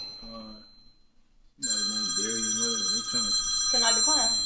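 A phone rings during an interview, its electronic ringtone chiming loudly and steadily close by while a voice talks over and around it.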